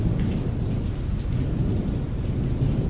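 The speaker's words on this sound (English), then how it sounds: "There's something about the rain." Steady rain pouring on a surface with low rumbling thunder underneath on a rainy day at a truck stop, dense and continuous throughout.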